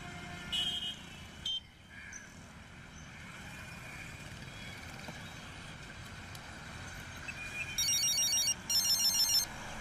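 A phone rings with short electronic trilling bursts near the end, faint against a constant low rumble of traffic.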